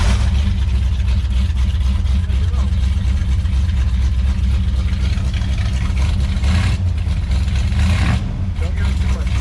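A 1978 Ford Bronco engine running on choke after being started, a loud, steady low rumble with a rough idle, and people talking in the background near the end.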